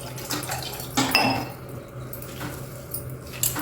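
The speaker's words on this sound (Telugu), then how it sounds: "మళ్ళీ కొన్ని నార్మల్ వాటర్ పోసేసుకోండి." Water poured over cooked vermicelli in a metal strainer, with clinking of pots and utensils: a short splash and rattling at close range, bursts around the middle and end, no talk.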